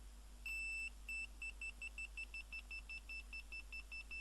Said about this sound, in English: This is where my analog meter comes in useful, because on this it's got a buzzer mode.